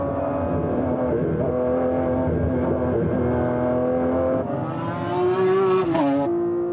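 A powerful race car engine revs steadily with a dense, buzzing drone, then climbs sharply in pitch with a loud surge near the end before dropping back, with no talking over it.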